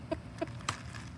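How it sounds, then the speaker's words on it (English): A mother hen among eight-week-old chicks in a garden gives three short, soft clucks spaced roughly evenly apart, calling her brood over to food, close by against quiet background noise. "She makes that little cluck cluck noise, and she'll pick them up and drop them down."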